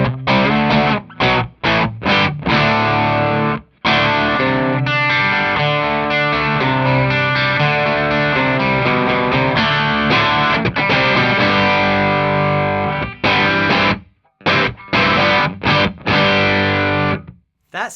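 A Telecaster electric guitar runs through a Klon overdrive pedal, loud driven chords and ringing sustained notes with a few choppy strums and short gaps between phrases.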